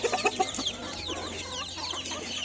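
A rooster clucks on a village farm in a quick series of short, close clucks at the start, then softer scattered bird calls over low background noise.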